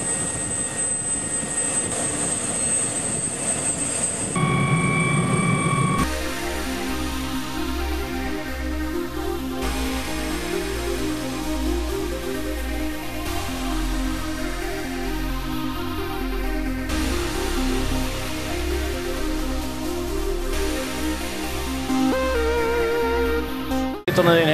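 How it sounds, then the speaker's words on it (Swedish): Inside a helicopter cabin on a polar trip, the engine and rotor drone steadily and loudly throughout, with a steady low throb, a high whine and a voice talking over it. "Vi sitter nu i en helikopter"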